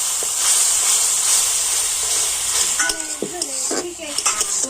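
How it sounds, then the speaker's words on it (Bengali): Spice paste of turmeric, cumin powder and coriander powder frying with a splash of water in a pan, a steady close hiss and sizzle with stirring scrapes and light clinks in the later half. "তো জল দিয়ে মশলাটা আমি কষে নেব"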